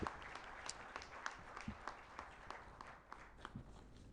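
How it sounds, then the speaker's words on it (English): A faint, distant round of audience applause for a chief guest at a chamber of commerce ceremony, scattered individual claps rippling through a soft crowd patter for about four seconds. "A big round of applause to this chief guest today."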